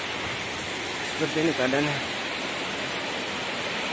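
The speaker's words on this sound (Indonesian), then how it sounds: "Ada air terjun ya." A jungle waterfall roars as a steady, broad rushing wash throughout, with someone speaking briefly over it.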